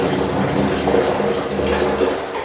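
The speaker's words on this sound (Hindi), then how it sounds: "सिंपल आपको कोई भी मग से ऐसे पानी डाल देना है इसके अंदर।" Water poured from a mug into the tank of a Kenstar Jett HC 51 personal desert air cooler, a steady close splashing and trickling that runs unbroken throughout.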